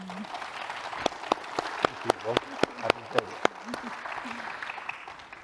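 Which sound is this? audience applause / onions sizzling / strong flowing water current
audience applause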